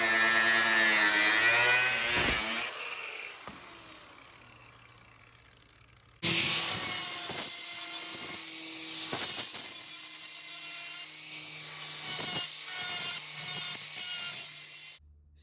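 Sheet metal being cut with a power tool for patching a badly rusted car body, loud ringing, screeching cuts in two bursts separated by a quiet pause, with sharp tonal squeals and clatter between strokes.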